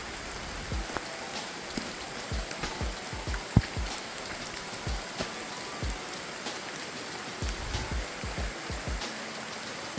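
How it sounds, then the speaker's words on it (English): Heavy raindrops fall outdoors, each large drop landing with a distinct splat over a soft, continuous patter, with irregular close hits scattered throughout. "The raindrops are just monstrous."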